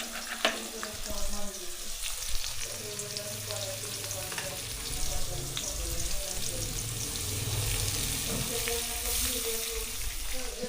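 Potato pieces fry in a pan with oil, a steady close sizzle and crackle that runs throughout, with occasional stirring scrapes and faint water sounds in the background.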